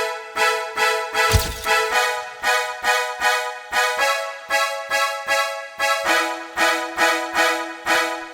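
Brass-like synth string chords play a bouncy part inside a 2000s swag R&B-style beat, with short rhythmic stabs pulsing steadily along with the drums, loud and upfront with no voices.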